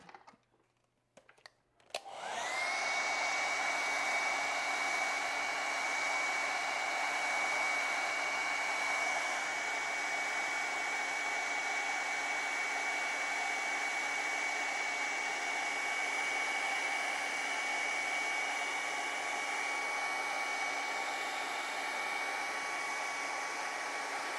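A hair dryer clicks on after a few faint handling noises and then blows steadily and loudly for over twenty seconds to dry a wet watercolor painting, an unbroken close whoosh with a constant whine.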